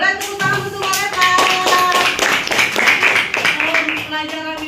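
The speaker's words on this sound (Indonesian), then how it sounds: "Ya, boleh tepuk tangan untuk mereka." A classroom of students claps together in steady, lively applause that lasts throughout, with voices calling out over the clapping.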